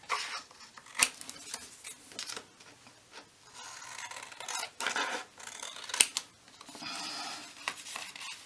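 Scissors trimming paper for a Halloween craft journal, heard as quiet, intermittent snips and rustling close by, with a couple of sharper clicks among softer rubbing sounds.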